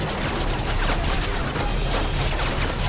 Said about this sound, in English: Use the mortar and hose those bastards down!